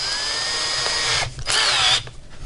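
A power drill with a number 2 bit whines loudly in bursts while drilling holes for a fuel system install, pitch shifting as it bites, with brief pauses between runs.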